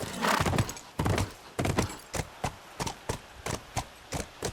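Rhythmic horse hooves clop steadily in a video game, starting with a few heavy thuds and a whinny, then settling into an even trot, clear and close.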